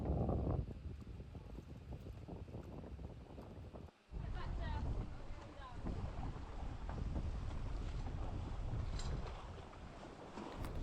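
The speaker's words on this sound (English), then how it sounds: "This is us sailing back to the mooring." A Thames barge sails back toward its mooring on short tacks into the wind, with buffeting wind noise across the microphone and a continuous wash of water, briefly cut off partway through.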